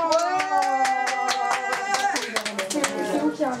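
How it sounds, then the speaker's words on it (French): Hand clapping at a child's birthday party indoors: a close, rhythmic run of claps from a small group, with a sung or sustained tonal voice running underneath. "Applaudissements."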